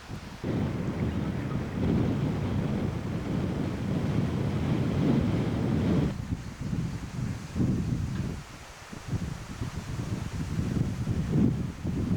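Strong wind roars steadily outdoors as a broad, rumbling buffet against the microphone, heavy at first and then gusting unevenly, with no talk.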